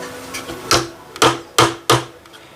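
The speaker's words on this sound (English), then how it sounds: "hammer it in place like so" A small hammer taps a plank into place on an HMS Endeavour model ship. Four sharp, close knocks come at uneven intervals, each ringing briefly, with no talking.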